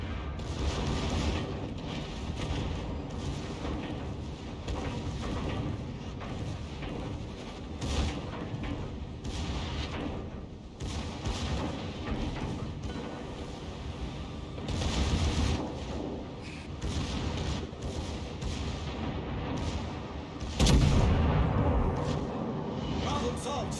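Repeated gun blasts and booms from secondary batteries firing at a battleship during a naval video game battle, dense and continuous with a heavier impact near the end, no talk over it.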